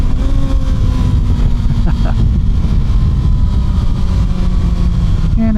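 A 2025 Kawasaki ZX6R motorcycle engine drones steadily under heavy wind rush while riding, its revs climbing sharply at the very end.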